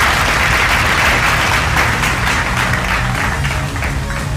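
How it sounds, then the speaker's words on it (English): Round of applause from an audience at a secondary school debate final, dense clapping that holds steady before easing slightly toward the end. "Round of applause."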